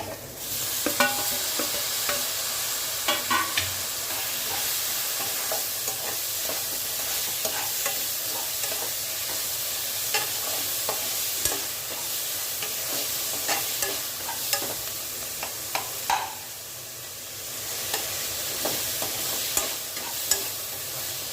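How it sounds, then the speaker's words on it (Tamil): Onion and tomato for tomato rice fry in a pan while being stirred. A steady, close sizzle runs throughout, with repeated scraping and clinking strokes of the spoon and no talking. "வெங்காயம் நல்லா வதங்கிருக்கு இப்போ தக்காளி சேர்த்துக்கலாம்"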